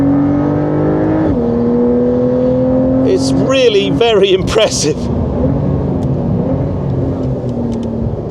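A base Porsche 911 Carrera on a race track holds a steady engine drone, shifts, then revs harder. Loud tyre squeal and wind noise follow, and someone talks over the engine partway through.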